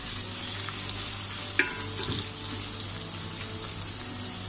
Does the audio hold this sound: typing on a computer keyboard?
no